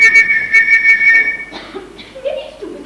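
A captain blows a shrill, steady whistle like a navy bosun's call, giving several sustained high blasts before it stops, followed by faint movement and murmuring in a stage setting.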